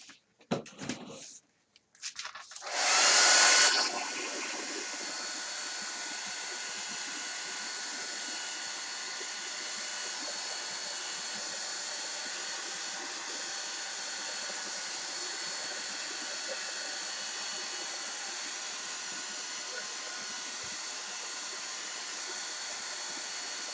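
Hair dryer blowing steadily on homemade washi tape made with neon color, a loud continuous airy whoosh that starts after a few seconds of handling noises and runs unbroken to the end.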